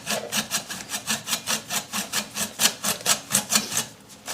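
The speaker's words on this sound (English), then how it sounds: "Just sand the clip off to oblivion." Rhythmic back-and-forth sanding strokes rasp against EVA foam, grinding a molded toy clip off a prop, about four strokes per second, close and moderately quiet with no speech.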